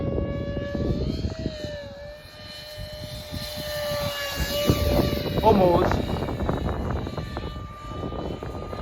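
Whining electric ducted-fan FB-28 RC jet buzzing overhead, pitch rising and falling as it passes, with wind noise and a person speaking briefly nearby.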